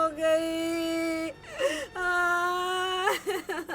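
A woman cries and wails loudly and close by in long, sustained, tremulous wails. A catching sob breaks them apart, and the wailing ends in short gasping sobs.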